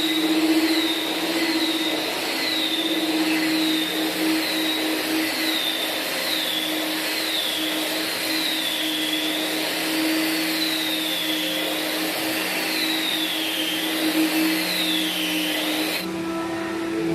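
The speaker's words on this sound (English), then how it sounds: "machine we can use for sanding the wood floor to cover up some minor unevenness, and it can use for side edge sanding" A floor sanding machine runs steadily on a hardwood parquet floor, a loud continuous motor drone with a wavering high whine, cutting off abruptly near the end.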